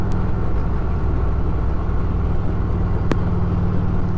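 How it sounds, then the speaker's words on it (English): Old Harley-Davidson motorcycle engine rumbling steadily while riding up a hilly, winding road, a constant low drone with wind noise and a couple of brief clicks. "I thought I'd get the old Harley out and take it up here"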